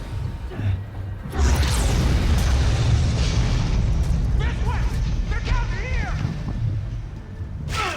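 A loud, rumbling explosion in the video game Dead Space 3 bursts out and rolls on, with whooshing effects and excited talking over it.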